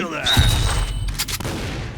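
A Saiga shotgun firing in the game Point Blank, with a quick cluster of heavy, close blasts in the middle of the stretch over rumbling in-game background noise.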